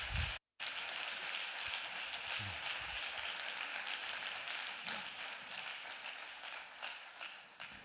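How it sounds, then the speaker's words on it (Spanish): An audience gives a speaker sustained applause, a dense, even wash of clapping for several seconds that fades slightly toward the end, with no talk over it. "Vamos a recibir con un fuerte aplauso a Walter Thompson."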